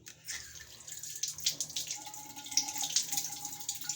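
Tap water runs steadily into a sink as a rubber toy cockroach is rinsed under the stream, with splashy bursts and a few brighter gurgles as the toy shifts beneath the flow.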